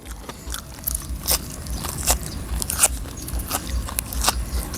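Crunchy bites and chewing of fresh vegetables outdoors in a vegetable garden, with a series of sharp, close crackling bites spaced irregularly over quieter chewing.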